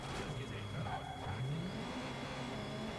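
A car in Watch Dogs 2 revs and accelerates through the streets, engine pitch rising and falling, moderately loud under game ambience with faint talk.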